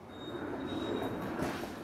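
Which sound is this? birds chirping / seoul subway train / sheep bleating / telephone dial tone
seoul subway train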